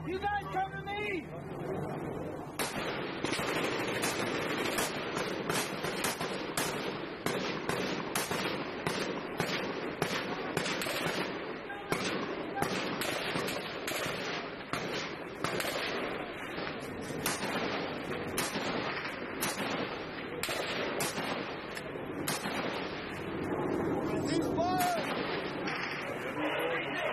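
Gunfire rattles during a battle in Afghanistan, with dense bursts of shots crackling continuously at close to mid range, mixed with shouting and radio-style talk throughout.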